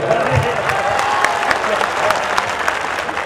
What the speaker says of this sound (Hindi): मैं चाहता हूं कि एक मर्तबा मेरे लिए जोर और तालियां बजाकर मुझे बताएं